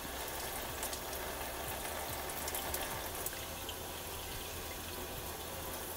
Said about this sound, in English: and then rinse that out.